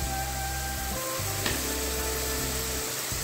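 Prawn paste fries in a pan with cumin, giving a steady close sizzle with faint stirring scrapes and a short sharp clack partway through.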